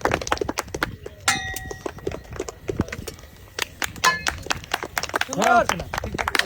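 Several sharp glassy clangs and clinks ring out amid steady chatter, as a ball knocks down a glass tower with a crisp shattering rattle.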